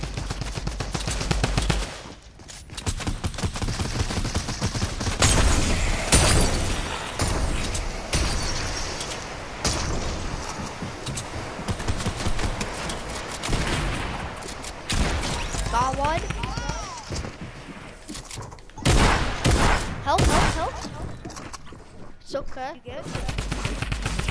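A drum gun fires in rapid bursts in a Fortnite-style Zone Wars desert match, loud repeated volleys of automatic gunfire through most of the clip, with players talking excitedly over it.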